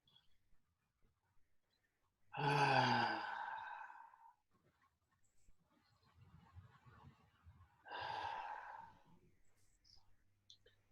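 Two slow, deep breaths during a vinyasa yoga flow, each a long breathy exhale with a soft sighing, whisper-like tone, close and alone against quiet background.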